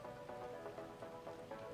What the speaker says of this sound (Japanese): 現在も雨が続いています。